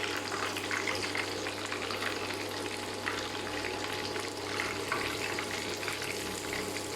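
Chicken frying in oil on an induction stove: a steady, dense sizzle and crackle of hot oil that continues evenly throughout, close and moderately loud with a faint hum beneath and no talking.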